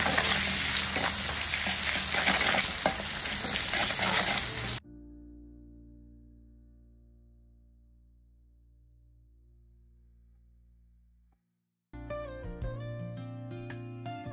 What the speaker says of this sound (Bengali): পেঁয়াজটাকে একটু হালকা লাল করে ভেজে নিই